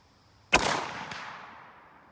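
A single Arisaka Type 99 rifle shot fired at a steel target 150 yards away, a sharp loud crack followed by a faint distant impact and a long fading echo, with no talk.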